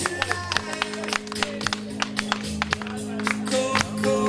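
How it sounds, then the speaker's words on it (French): Wedding guests clap at a civil and religious ceremony, a run of sharp, uneven handclaps over a low sustained musical tone, fairly close and moderately loud. "Ça s'applaudit ce moment."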